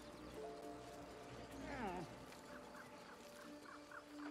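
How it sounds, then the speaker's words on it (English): A loud, squawking bird call rises sharply in the Baldur's Gate 3 video game, followed by a series of softer repeated chirps over steady background ambience. "it's a bird."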